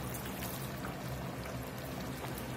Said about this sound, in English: We're going to get us a splash or two of white wine in here.